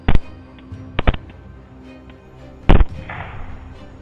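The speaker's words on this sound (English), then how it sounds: "Gunshots rang out in rapid succession" Gunshots aimed at wild boars during a night hunt: a single crack, then a quick pair, then a heavier blast after a pause, sharp and fairly close, with quiet outdoor hush between.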